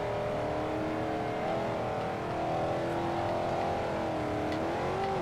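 A car engine in the racing game Forza Horizon drones and revs continuously while drifting, its pitch wavering up and down at steady loudness throughout.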